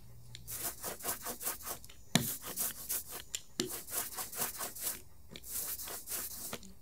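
An ink roller is worked back and forth over sticky ink for a styrofoam print, giving a rapid series of tacky, crackling rubbing strokes in an uneven rhythm. Faint, close and alone.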